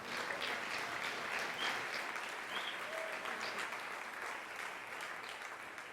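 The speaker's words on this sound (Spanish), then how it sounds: "De un aplauso al Señor." A church congregation at a pastors' conference in Cuba applauds, a faint, steady wash of many hands clapping that carries on evenly and eases slightly toward the end.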